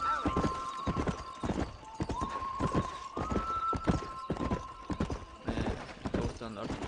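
Horse hooves clip-clopping in the video game Red Dead Redemption, a steady rhythmic beat of close hoofsteps with a whinny and a tonal music line layered over it, and someone talking over the top.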